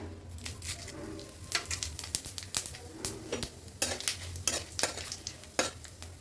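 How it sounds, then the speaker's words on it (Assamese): Cumin seeds dropped into hot oil with bay leaves for a taro and fish curry, crackling and sizzling softly while a utensil scrapes and clinks against the pan in irregular strokes. "এতিয়া দিম মই জিৰা"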